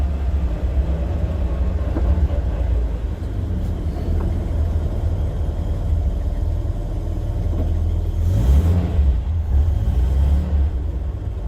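A supercharged Morris Minor engine idles with a steady low rumble nearby, a brief swell in revs near the end before settling back.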